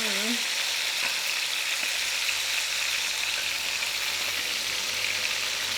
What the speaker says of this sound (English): We want to let them go about the same amount of time here to get some browning on and searing on the other side